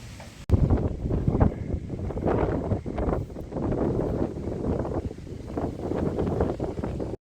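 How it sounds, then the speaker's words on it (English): Strong southerly wind buffets the microphone while cycling in northern Spain, a loud, rough, gusting roar that fluctuates constantly with brief dips. "The strong southerly winds are yet to abate"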